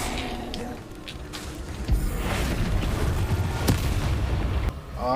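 A Bombarda blasting spell detonates in the Hogwarts Legacy game, a sudden loud boom near the two-second mark followed by rumbling debris and a second sharp burst, set against a busy bed of game noise.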